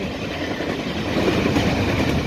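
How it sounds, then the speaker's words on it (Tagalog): A kwai-kwai train passes a waiting spot in Taiwan, a loud, steady rumble of wheels on rails with a faint rhythmic clatter that swells slightly as it goes by, with no voices. "inaantay natin na makalagpas yung tren"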